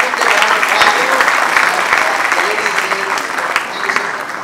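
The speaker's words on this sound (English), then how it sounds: "I think we have completed the round of applause." A convention audience applauds panelists at a real estate industry event in Kolkata, a loud, dense patter of many hands clapping continuously, with a voice faintly speaking underneath.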